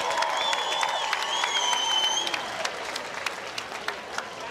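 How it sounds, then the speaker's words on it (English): Arena crowd applauding both fighters at a bare-knuckle fighting event at Hard Rock Live in Hollywood, Florida, a steady wash of clapping from a large audience, with a few brief tonal sounds in the first half. "let's have a great round of applause for both fighters"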